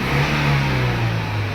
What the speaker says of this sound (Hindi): प्रॉपर गाड़ी अल्हम्दुलिल्लाह रेस ले रही है।